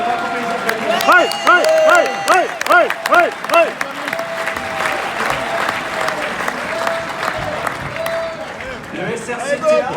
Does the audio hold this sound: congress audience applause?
yes